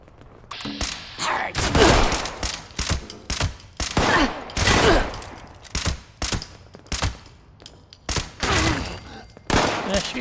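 Video game gunfire in Fallout 76, sharp rapid shots in bursts and clusters with brief gaps between, loud and close, mixed with mechanical weapon clicks.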